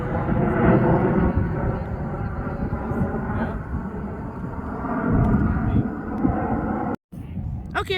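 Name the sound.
CRJ jet airplane flying overhead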